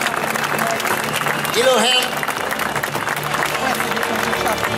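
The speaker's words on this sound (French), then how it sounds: "On peut applaudir quand même le chef." Rodeo crowd applauding in a steady wash of clapping at an outdoor event in St-Agrève, Ardèche, with an announcer's voice speaking over it and a brief musical swell partway through.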